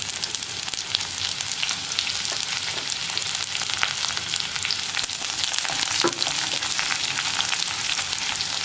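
Dried red chillies and sliced onion fry in a pan, a steady loud sizzle and crackle throughout with occasional small pops and stirring knocks.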